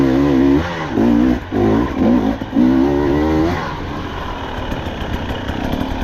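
A 2024 KTM 300XC-W two-stroke dirt bike with a TSP head and ECU tune revs in short bursts while easing through a hard trail section, then drops to a lower, rougher rumble, loud and close.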